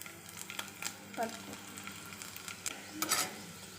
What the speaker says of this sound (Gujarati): તો અહીંયા મેં તેલ ગરમ કરીને મૂકી દીધું છે હવે આપણે એમાં એડ કરીશું હિંગ લસણની